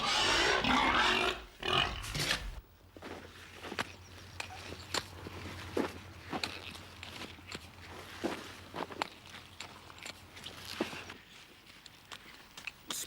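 Pigs on a working pig farm, with scattered grunts and snuffles alongside repeated footsteps and shuffling in a pen, preceded by a brief loud burst of noise, moderately close.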